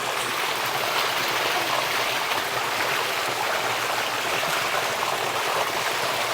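Water runs steadily from a tap or hose while a shoe is washed outdoors, a constant broad splashing rush that stays even and fairly close, with no talking heard.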